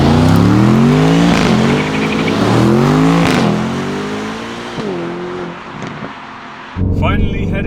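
A 2025 Aston Martin Vantage pulls away onto forest back roads in Germany, its engine note rising through several loud gear pulls, then settling into a steadier cruise with a brief burst of noise near the end.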